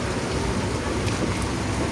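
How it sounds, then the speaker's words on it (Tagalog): Steady, continuous rain pours down, a dense even hiss filling the scene without a break, with no voices. "walang tigil yung ulan"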